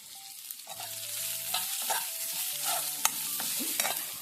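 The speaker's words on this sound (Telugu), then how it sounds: "ఆనియన్ కొద్దిగా ఫ్రై అవ్వడానికి" Sliced onion and chopped curry leaves fry in a pan for vegetable upma, giving a steady close sizzle with scraping stirs and light clinks of a utensil, no voices.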